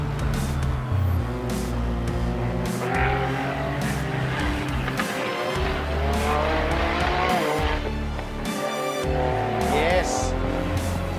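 Time attack race car with a VR38 engine at full throttle on track, a loud continuous engine roar with rising and falling revs, tire squeal and brief lift-offs, close and dominant throughout.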